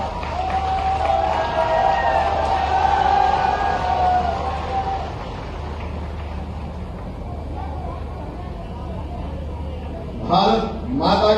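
An audience at a public ceremony in Mandideep applauds former chief minister Shivraj Singh Chouhan, with broad crowd noise under a voice on the PA and a burst of clapping and cheering near the end.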